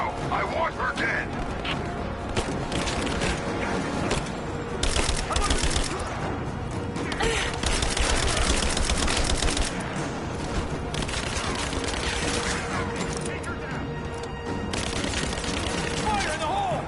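Sustained gunfire and explosive bursts fill a PS4 video game battle, dense and continuous throughout with booming peaks midway, while voices talk over the action.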